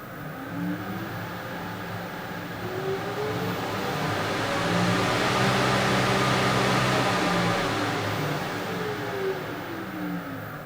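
A Harrison universal mill's gearbox runs out of gear, giving a steady, dense mechanical whir and hiss with faint rising and falling tones. It swells slightly in the middle of the run and plays alone, with no talk.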